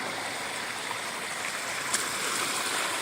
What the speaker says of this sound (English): Here comes a stream into the trail.